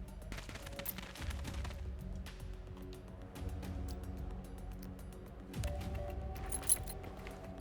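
Sniper rifle fire in the tactical video game Reverse Collapse: Bakery Girl: a cluster of sharp, clicking cracks early on, then a louder single report near the end, all over a steady low droning game soundtrack.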